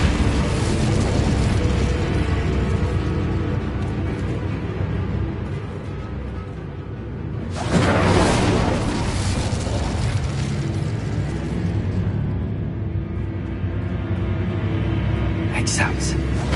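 The Incendio fire spell is cast in the Hogwarts Legacy video game, a loud whooshing burst of flame rising out of steady, rumbling game ambience, with a speaking voice nearby.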